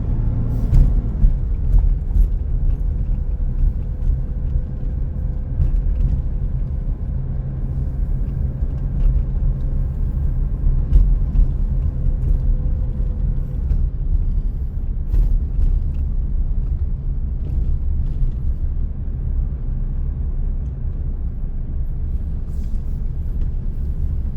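A car drives along a road in Bueng Kan, Thailand, with a steady low engine and tyre rumble running the whole time from the cabin and no talk.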